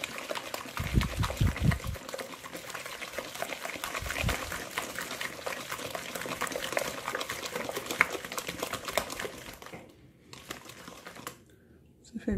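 Egg batter being stirred in a bowl: a steady wet, crinkly churning runs close and continuous, broken by a few heavier knocks and short pauses near the end.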